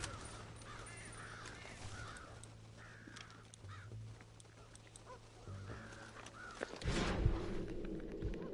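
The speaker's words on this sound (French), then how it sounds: "Enfin, des corbeaux, ou je sais pas c'est quoi comme oiseau." Crows cawing repeatedly in Red Dead Redemption, several harsh calls at moderate distance over a low steady game hum, ending in a louder burst of flapping noise.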